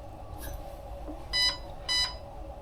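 Two short, bright electronic beeps from the stock Arcturus Saber URGI airsoft rifle's electronics, running on a 7.4 V battery and set to semi-auto. The tones sound clearly and in quick succession over a faint background hum.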